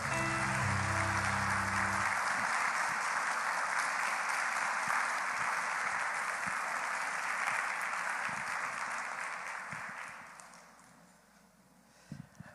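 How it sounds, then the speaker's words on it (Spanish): Church congregation applause for the Lord during a Spanish-language Bible study service, broad steady clapping for about ten seconds that fades out, with instrument tones at the start. "Dele un aplauso al Señor."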